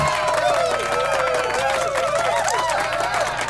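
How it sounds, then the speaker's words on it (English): A podcast studio audience claps and cheers continuously, with a dense patter of hands and some raised voices and chatter running through the whole stretch. "let's clap it up for that"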